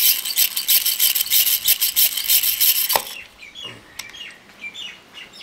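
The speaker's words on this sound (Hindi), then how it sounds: "जहाँ पे अभी ड्रिल मशीन चल रहा है वहाँ पे नारियल की आँख" A drill machine bores a hole into the eye of a coconut with a steady, loud grinding rasp for about three seconds, then stops, leaving birdsong and quieter background.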